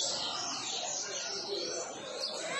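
Small caged finches such as canaries and siskins give soft, thin chirps and twitters at a moderate distance over a continuous hissy background, with no clear talk.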